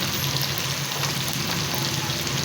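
Chicken pieces frying in a pan for chicken nihari, a steady close hiss of sizzling oil with no pauses.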